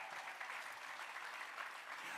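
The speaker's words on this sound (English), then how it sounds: "give yourself a round of applause" Faint, distant audience applause at a memorial tribute event, an even continuous patter of many hands held at low level throughout without speech.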